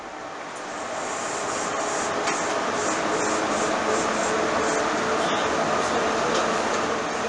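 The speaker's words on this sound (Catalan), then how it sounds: "El tren elevat Yuri-Kamome et porta d'un centre de Tòquio, Shibuya, a Odaiba a través de gratacels i passos elevats." The Yurikamome elevated train runs through Tokyo from Shibuya to Odaiba past skyscrapers and overpasses, giving a steady, loud, close rumble with a broad hiss that continues throughout.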